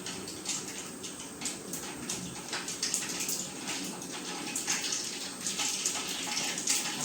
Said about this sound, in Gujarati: પાણી નાખવાનું હલાવી દેવાનું.